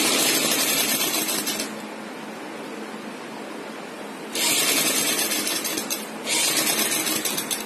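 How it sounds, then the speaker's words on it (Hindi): A sewing machine stitches the back dart of a kurti, running in a steady close whirring hum that rises in speed for short bursts. "अब मैं आपको सिलाई लगाकर दिखाती हूँ।"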